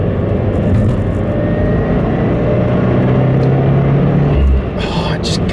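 A modified MY15 Subaru WRX turbo, tuned by MRT Performance, accelerates hard on a freeway, its loud, steady engine drone and road rumble building continuously up close before easing off near the end.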